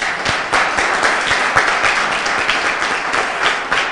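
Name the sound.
audience applause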